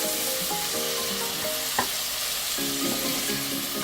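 Green peas fry in oil in a pan for Bengali aloo dum, a constant close sizzle with tonal hissing streaks and a sharp scrape of stirring partway through.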